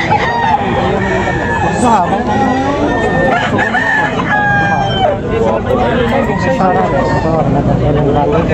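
At a crowded chicken market in Tabunok, many roosters crow one after another, loud and near, over constant background babble and people talking.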